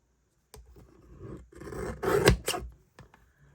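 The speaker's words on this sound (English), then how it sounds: "we're going to trim it just a little bit more" Cardstock being trimmed for a handmade card gives a few soft rasping, scraping strokes, quiet and close, with short pauses between cuts and no talking.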